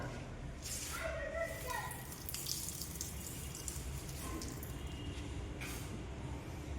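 Water is poured onto a mixer strip, producing a soft splashing trickle in bursts over faint steady background noise.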